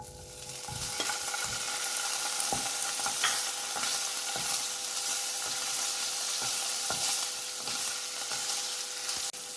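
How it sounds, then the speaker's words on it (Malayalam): Paneer frying in vegetable oil in a pan gives a steady, close sizzle that runs unbroken for nearly ten seconds, broken by a few sharp taps and scrapes of a utensil stirring, with no talk. "ഇതിന് വേണ്ടി നൂറ് ഗ്രാം പനീർ നമ്മൾ എടുത്തു വെച്ചിട്ടുണ്ട് ഇത് ചെറുതായിട്ടൊന്ന് ഫ്രൈ ചെയ്തെടുക്കാം"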